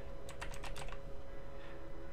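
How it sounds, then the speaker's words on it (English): Quick bursts of typing on a computer keyboard, a cluster of about half a dozen clicks near the start and then a faint tap, over a low steady hum. "so I'm just gonna actually type it"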